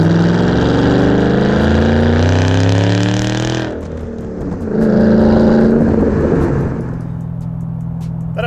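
A supercharged Mustang GT V8 with a Roush stainless steel cat-back exhaust revs loudly up and down, its deep harmonic roar rising, dropping off, then surging again before settling into an idle rumble.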